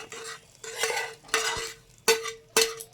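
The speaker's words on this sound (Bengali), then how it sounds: "এখন আমরা এই খিচুড়িতে মশলাটা দিয়ে দেব" Masala spice mix stirred into bhog khichuri in a pot: five distinct scraping strokes of a spoon against the pot, each a loud rasping sweep followed by a short pause, with a faint sizzle beneath.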